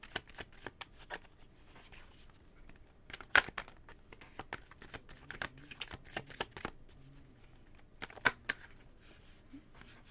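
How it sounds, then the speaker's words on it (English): A deck of cards shuffled up close during a card reading, with repeated sharp riffling and flicking bursts in an otherwise quiet room and no talking. "why can't I shuffle cards today?"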